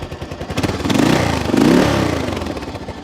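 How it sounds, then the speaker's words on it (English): A 1971 Triumph T100C Trophy Competition motorcycle engine runs close by with a smooth, steady idle that swells in two brief rises before settling back, with no voices. "Engine sounds nice and smooth."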